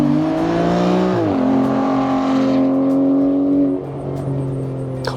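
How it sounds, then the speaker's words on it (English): A 2015 Aston Martin Vanquish V12 with valved exhaust revs loud and close, a sustained throaty drone that dips and climbs again before easing off, with no voices over it. "you can hear it open up and let the V12 scream, and it sounds good"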